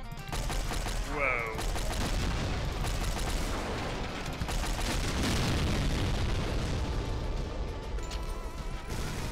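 Dense rolling explosions and rapid blasts from Brutal Doom, with a missile launcher firing, loud and continuous, with a brief rising whistle early on.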